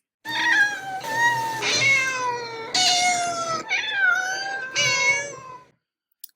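Several successive meows from a cat waiting in a transport cage at a veterinary clinic, each a clear tonal call with falling melody, close and loud, separated by short gaps.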